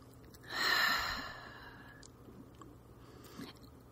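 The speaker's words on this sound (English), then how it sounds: "take a deep breath, 3 deep breaths" Slow, deep breathing in a quiet room, with one long audible exhale like a sigh and then fainter soft breaths and small mouth sounds close by.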